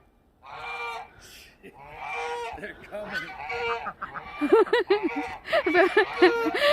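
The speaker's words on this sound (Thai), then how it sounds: "ดูเป็ดดูไก่ปูนะคะ" Ducks and chickens honk, quack and cluck repeatedly at close range on a snowy day, their calls overlapping and growing busier, with some talk mixed in.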